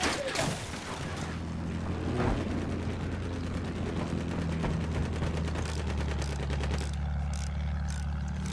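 Anti-aircraft guns in Battlefield 1 pound away in a continuous, loud barrage of rapid booming shots with heavy rumbling underneath, lasting throughout.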